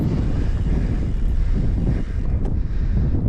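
Wind on a mountainside trail at La Moulière bike park buffets the microphone, producing a loud, constant low rumble and roar throughout, with no one speaking.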